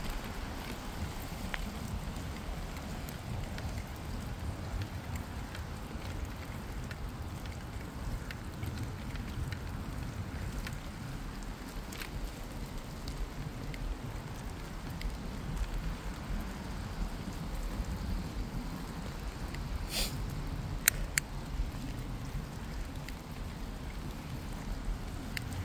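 Steady rain falls near Beaver Lake in Stanley Park, a constant wash of drops with light wind and no voices.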